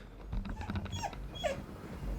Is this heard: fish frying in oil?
no